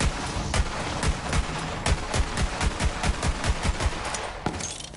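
Rapid bursts of enemy gunfire in the video game Borderlands 3, a dense run of sharp, evenly spaced shots that rattles on for several seconds, loud and close with no talk over it.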